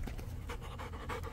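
A wet dog pants in quick, steady bursts close to the listener, a continuous breathy rhythm with no talking over it.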